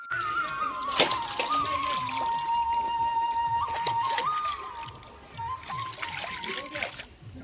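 Dishes washed by hand in a village home, water splashing and sloshing with clinks of utensils while someone talks over it.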